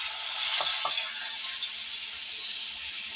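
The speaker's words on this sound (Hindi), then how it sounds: "कढ़ाई का तेल गरम हो चुका है और अब हम डालने वाले हैं प्याज।" Onion hitting hot oil in a wok sets off a steady, fairly quiet sizzle that holds for a few seconds, with a couple of brief knocks early on and no talking.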